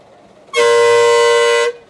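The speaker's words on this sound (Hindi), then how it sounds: "हॉर्न बजाइए।" A single loud, steady bus horn blares for just over a second, close and clear, then cuts off.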